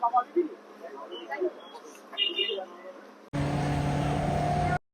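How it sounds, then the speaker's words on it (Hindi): A fast motorboat ride on a lake in Udaipur: after a stretch of voices, a loud, steady engine roar starts abruptly and holds for about a second and a half, then cuts off. "काफी फास्ट बोटिंग कराते हैं लोग, स्टीमर पे लेके जाते हैं"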